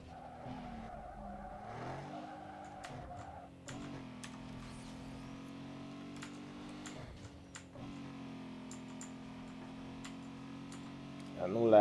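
Car in the racing game Need for Speed Underground 2 braking hard and skidding, with a sustained engine drone and tire squeal over steady game audio, loudest toward the end.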